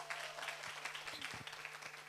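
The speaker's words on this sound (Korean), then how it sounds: "박수로 모시겠습니다." An audience applauds at a school publishing celebration event, a faint steady patter of clapping from a small crowd across the whole short stretch, with a low hum beneath.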